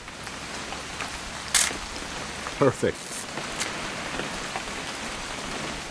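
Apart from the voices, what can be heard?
rain in the video game What Remains of Edith Finch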